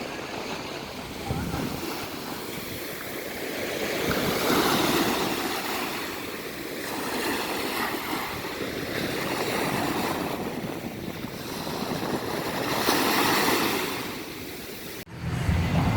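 Ocean waves rolling in at Fort Lauderdale beach in Florida, a broad steady wash of surf swelling and fading in slow cycles, mixed with wind buffeting the microphone.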